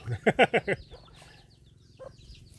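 Chickens bought at a market, clucking nearby in a quick burst of four or five rhythmic clucks, then quieter scattered sounds and one more short call.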